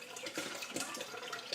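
A litre of UHT full cream milk pouring into a container in a home kitchen, a continuous close, soft liquid rush with small splashing fluctuations throughout.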